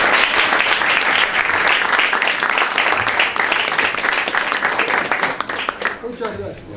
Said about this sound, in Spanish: por eso queremos pedir un gran aplauso para ellos